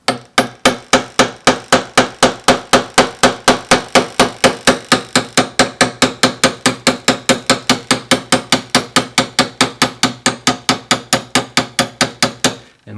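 A punch taps a fret sideways out of a Fender guitar neck toward the treble side, making a steady run of about fifty light, evenly spaced metallic knocks, close and crisp, with no voices.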